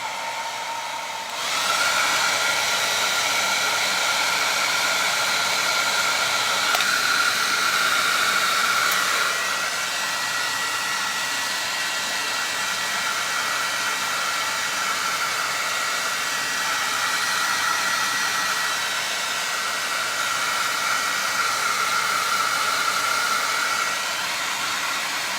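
Hair dryer blowing a steady loud hiss of air onto the nose of a Dollar Store DIY gnome craft, running continuously for about twenty-five seconds after switching on, with no talking.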